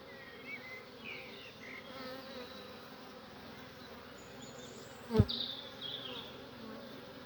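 Honeybees swarming during a summer beehive inspection: a constant soft buzzing drone with a few louder passes close by and a brief sharp knock partway through.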